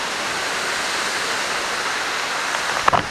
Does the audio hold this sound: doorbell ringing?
no